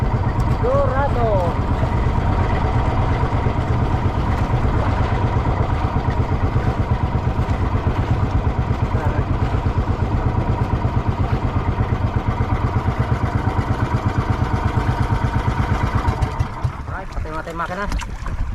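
A fishing boat's engine runs out at sea with a loud, steady, rapid throbbing that holds for the whole stretch and eases slightly near the end, while people shout and talk over it.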